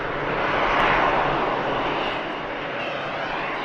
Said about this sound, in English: Lovely takeoff from the 380.